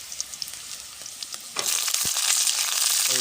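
Malabar spinach stalks, seeds and a little potato stir-fried on a village clay stove, a few soft utensil taps and then a loud, dense sizzle that swells and holds close up.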